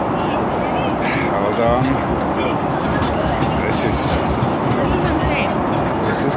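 Cabin of a Turkish Airlines airliner, flight TK 10, rattling through heavy turbulence at cruise altitude: a loud, continuous low rumble with shaking and creaks, a voice briefly speaking over it.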